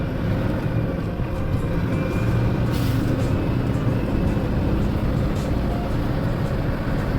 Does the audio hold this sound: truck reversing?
yes